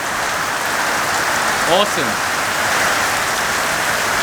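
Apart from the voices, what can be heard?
heavy rain falling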